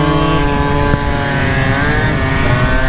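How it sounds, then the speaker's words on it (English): A 72cc Honda Elite Dio scooter being ridden, its small engine holding a loud, steady buzzing drone close by for the whole stretch, with no talk. "we got the 72 Elite. We're out here right now, we're riding"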